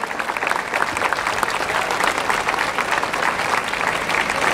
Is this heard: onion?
no